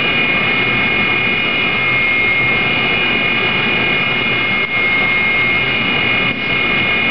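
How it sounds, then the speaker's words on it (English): A Walter CNC5 saw blade grinder works a replaced tooth on a saw blade, giving a loud, continuous high-pitched whine and hum with only slight dips, steady throughout. "You see the machine take about an extra 5 or 6 passes to grind that replaced tooth."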